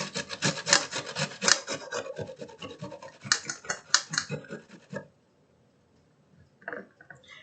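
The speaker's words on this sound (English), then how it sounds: "I'm just taking a box grater" Green tomatoes are rubbed against the coarse side of a box grater in a quick series of close, rasping strokes, followed by a pause and a brief final scrape.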